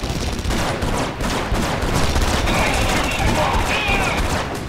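Gunfire aimed at the player in the video game Red Faction Guerrilla, dense continuous bursts of shots crackling loudly and close over the whole stretch.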